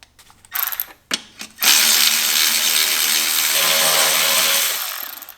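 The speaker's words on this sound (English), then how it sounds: "And then I'll use the power ratchet once it's loose." A power ratchet spins loose a bolt on a BMW N54 downpipe of a 135i, with a few short tool bursts and clicks before a loud, sustained whirring run that winds down at the end.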